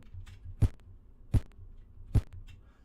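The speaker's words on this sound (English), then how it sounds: "it has an inbuilt kick sound, which you'll hear if I set this to loop with just that sound" An 8-bit style kick drum from an NES-emulating synth plugin, looped as three evenly spaced punchy low thumps over a faint buzzy background, alone with no speech.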